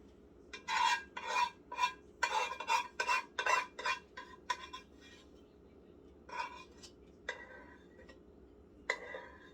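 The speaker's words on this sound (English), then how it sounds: "I just kind of want to get a spoon. And scrape some of this out of my pot" A spoon scrapes thick homemade elderberry jelly out of a cooking pot in a quiet kitchen: a run of short, rasping strokes, then a few sparser scrapes after a brief pause.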